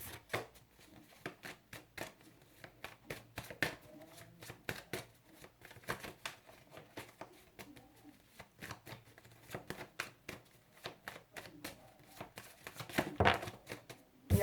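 Tarot cards are handled, shuffled and laid out, a quiet run of close, crisp flicks, slides and taps in irregular bursts, with a denser flurry near the end.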